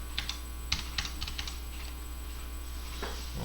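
Shift and Home/End keys pressed on a computer keyboard, a handful of quick clicky keystrokes clustered early, then a quieter stretch over a steady background hum.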